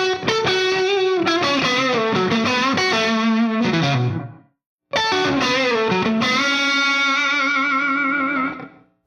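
Distorted electric guitar plays a slow blues lick with bends and vibrato, through an effects unit. Two sustained phrases are broken by a brief gap, loud and alone.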